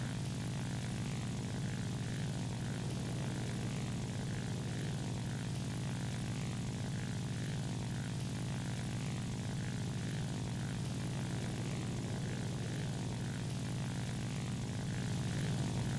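Bomber aircraft propellers drone continuously in the War Thunder video game, a steady dense engine hum with a faint rhythmic pulsing, loud and unbroken throughout with no speech.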